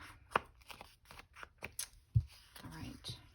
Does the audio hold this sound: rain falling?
no